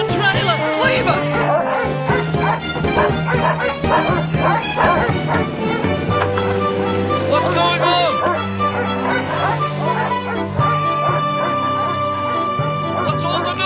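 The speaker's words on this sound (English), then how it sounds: "Look out! Dogs!" Cartoon dogs bark and yip in a chaotic chase scene, repeated excited barks mixed with lively music, and a brief line of speech partway through.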